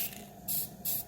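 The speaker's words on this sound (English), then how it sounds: "I want to spray paint it straight towards that." A spray paint can sprays blue base coat onto a table in two close, loud hissing bursts over a low background rumble, with no voices.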